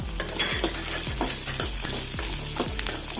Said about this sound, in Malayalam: ഇനി ഒരു സവോള അരിഞ്ഞത് ചേർത്ത് കൊടുക്കുക